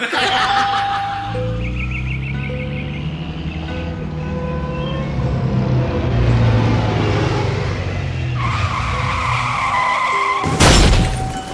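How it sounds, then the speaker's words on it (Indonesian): A car braking suddenly, a long loud tire skid that ends in a sharp crashing impact, with chuckling and laughter mixed in. "Tuh tingali mobil urang jadi rusak gara-gara didinya ngarem ngadadak."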